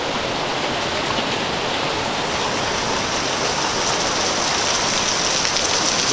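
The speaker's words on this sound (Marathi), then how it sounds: "खूप पाऊस आलाय" Heavy monsoon rain pours down steadily on a Konkan village, a dense, unbroken hiss with no voices, close and loud throughout.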